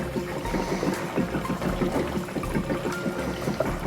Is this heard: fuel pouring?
yes